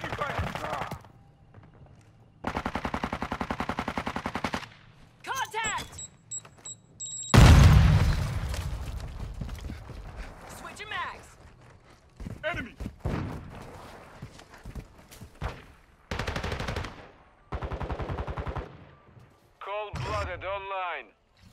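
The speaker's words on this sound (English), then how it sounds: "I'm taking fire." Gunfire and explosions from the Call of Duty video game come in separate loud bursts, with a heavy boom midway and shorter volleys and rattles between stretches of game voice lines and radio chatter.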